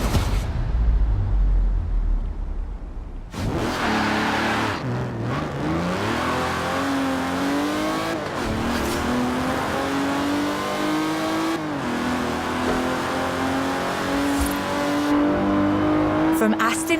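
Car engine in the racing game Forza Horizon 4 revving and accelerating, rising and falling pitch under steady game music or ambience, with a voice speaking over parts of the drive.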